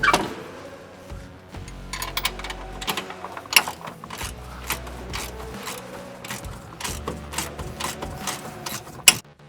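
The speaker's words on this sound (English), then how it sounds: "we will loosen and remove the lower shock bolt and the upper shock bolt" Tools loosen and pull the lower and upper shock bolts on a UTV, with repeated metallic ratchet clicks, clanks and creaks in an irregular rhythm, close by and moderately loud, ending in a sharp knock.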